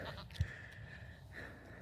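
Goat on a farm behind an electric fence giving a short, faint bleat, with a second softer call a moment later, quiet outdoors with no talk.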